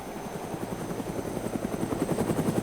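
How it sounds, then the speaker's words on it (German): A helicopter flies in the video game DayZ, its rotor beating in a steady rhythmic chop that holds loud and constant throughout, with no voices over it. "da vorne fliegt der Heli"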